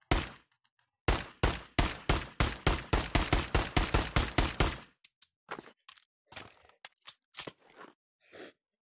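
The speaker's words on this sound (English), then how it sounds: "The next one will be the Beretta." A Beretta pistol in the VR shooter Pavlov fires a rapid string of sharp, loud shots, then a few scattered clicks and clacks of reloading follow.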